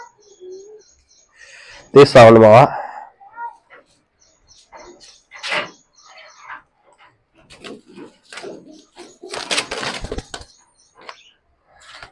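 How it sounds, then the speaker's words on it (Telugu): Pigeons and lovebirds in a bird loft, giving scattered chirps and soft coos with one louder burst of calls, while someone talks nearby. "ఇవి లవ్ బర్డ్స్ అంటారు."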